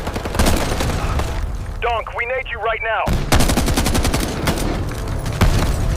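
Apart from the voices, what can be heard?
gunfire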